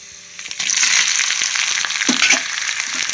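Garlic, green chillies and dried red chillies tempering in hot oil: a loud, crackling sizzle that swells within the first half-second and stays dense and spattery to the end. A few stirring knocks come through the crackle.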